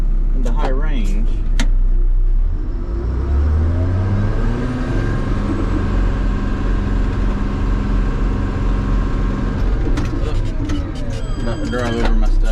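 A new dump truck's engine rumbles close and loud, its pitch climbing as it drives and shifts, then settling into a steady drone, with a few brief voices near the start and end.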